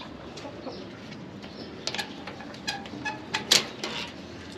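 A black aseel rooster on a Pakistani farm gives a few soft, scattered clucks, close but faint, over quiet background noise with no talking.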